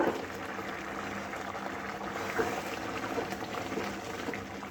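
Mung dal with ridge gourd and potato bubbling in a pot, a steady soft simmering hiss and gentle liquid burble running throughout with no talk.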